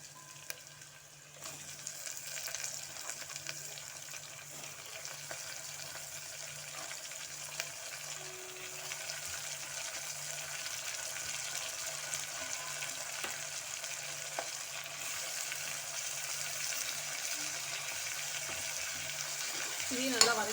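Four large chopped tomatoes sautéing in a pan give a soft, steady sizzle with faint stirring scrapes, starting quietly and holding at a low, even level throughout.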